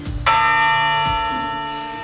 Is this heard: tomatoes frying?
no